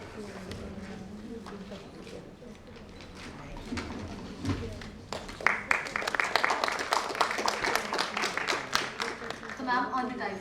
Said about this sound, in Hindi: एक बार जोरदार तालियां और